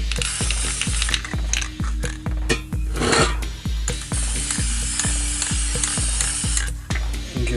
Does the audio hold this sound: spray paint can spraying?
yes